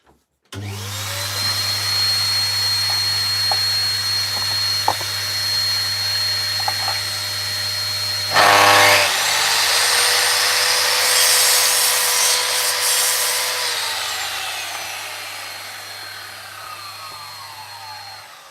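A power sander grinds steadily along the edge of a garden railway tunnel, a loud, continuous abrasive whir that briefly roughens midway and then winds down.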